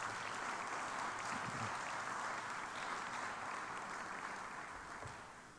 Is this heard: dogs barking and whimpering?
no